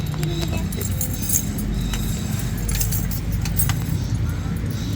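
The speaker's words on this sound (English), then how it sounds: "Let's test the keys." Newly cut keys jangle and click in a lock at a locksmith shop in Dumaguete City, Philippines, a close metallic rattle over a steady hum of street traffic.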